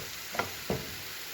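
Batter poured into the middle of a hot skillet gives two short, soft sizzling bursts over a quiet background hiss.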